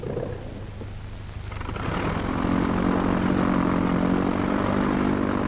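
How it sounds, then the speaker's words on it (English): Propeller training planes taking off one after another, a steady engine drone that swells into a loud sustained roar with a harmonic buzz, close and continuous. "One by one, the planes take off."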